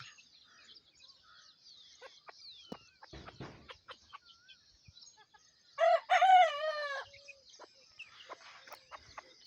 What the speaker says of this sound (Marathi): कोंबडे आरवत आहेत.